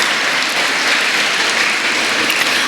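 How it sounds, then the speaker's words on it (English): Audience applause at a World Space Week event held with ISRO, a dense, loud, steady wash of many hands clapping that lasts a few seconds without voices. "I think they deserve a big round of applause."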